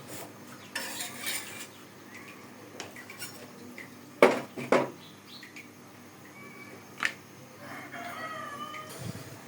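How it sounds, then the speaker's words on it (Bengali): A milk pot clanks and scrapes as it is set back onto a kitchen stove, with a few sharp metallic knocks standing out against quiet room noise and softer utensil clatter. "দুধের পাতিল আমি কিন্তু আবার চুলায় নিয়ে আসছি"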